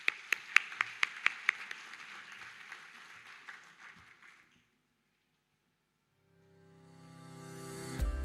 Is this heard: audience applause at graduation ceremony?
yes